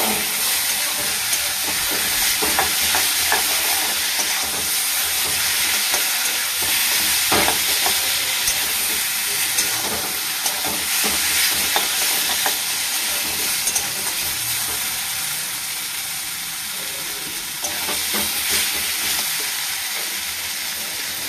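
Mashed ohar vorta sizzles and fries steadily in a pan while being stirred, giving a continuous loud crackle with scraping strokes throughout and no talking.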